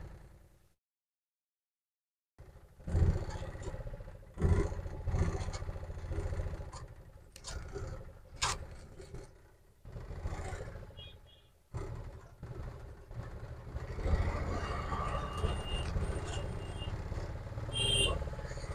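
A Piaggio Ape auto-rickshaw with weak pickup that is slow to gain speed in the higher gears drives along a road, with a rough engine rumble and road noise rising and falling after a brief silent start.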